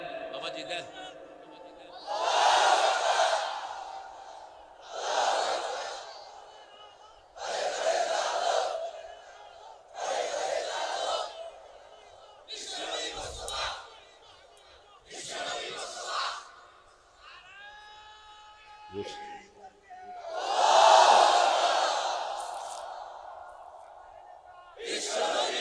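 A crowd at a religious gathering chants a slogan in loud unison, about seven shouted rounds coming in a steady call-and-response rhythm with short pauses between them.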